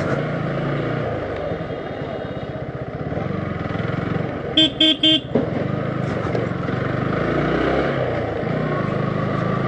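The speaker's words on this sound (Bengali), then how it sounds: "জাস্ট পোর্শের জন্য আমার এইভাবে একটু রাফ চালানো।" Porsche Panamera driven roughly along a village road, engine droning and tires rumbling continuously, with a short burst of repeated horn honks near the middle.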